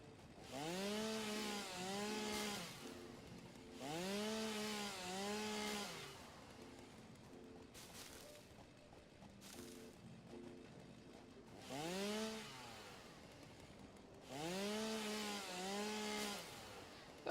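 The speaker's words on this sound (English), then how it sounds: "not sure about the efficiency of chopping down like bushes with the chainsaw" A chainsaw revs in four loud bursts as it cuts through a tree and bushes, each rising and falling whine separated by quieter idling stretches.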